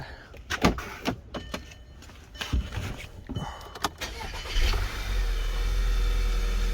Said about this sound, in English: we're just going to go ahead and start up the vehicle